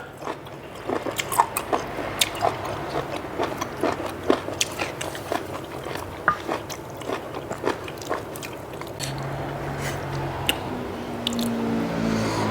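Someone chews a Thai raw beef dish with bitter jaew sauce up close, producing a steady series of wet crunches and squishy bites that repeat rhythmically over several seconds.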